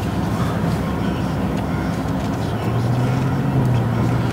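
Low, steady engine and road rumble from a 2017 Audi R8 supercar pulling away, a continuous loud drone with a rising low tone near the end.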